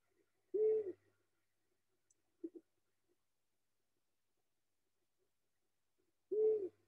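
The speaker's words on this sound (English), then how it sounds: "We found a long-eared owl on our hotel grounds." Long-eared owl calling on hotel grounds in Greece: two soft, low hoots about six seconds apart, faint and distant in a quiet night, with a brief small sound between them.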